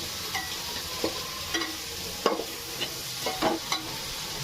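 Onion and green chili fry in a generous amount of oil with a steady low sizzle, while a spoon stirs and scrapes the pan in several distinct knocks. No voices are heard.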